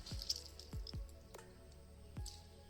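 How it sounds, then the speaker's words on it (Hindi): Water squeezed by hand from boiled grated carrots drips and splashes in a few separate drops and squishes, close and fairly quiet, with no talking. "फिर इसको ऐसे हमने इसको निचोड़ना है। इसका पानी जो है ना अच्छी तरह हम निकाल लेंगे।"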